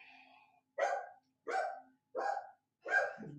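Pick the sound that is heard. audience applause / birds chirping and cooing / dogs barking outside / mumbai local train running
dogs barking outside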